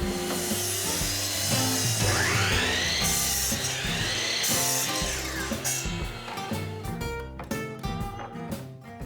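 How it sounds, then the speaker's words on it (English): A miter saw cuts the bottom panel of a mold for a pre-cast concrete countertop, giving a loud, sustained whining rip through the board that fades as the blade spins down. "The laser on this miter saw makes it easy to align the cut."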